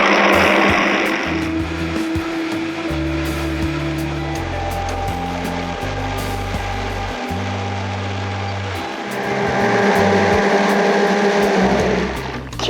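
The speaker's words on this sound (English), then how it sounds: "And I'm going to blend and I want it completely creamy without any, sandy bits of the nuts." A Vitamix blender runs loud and close, grinding nuts into a creamy vegan cheese, its motor whine rising and falling in steps as the speed changes, then settling into a steady roar.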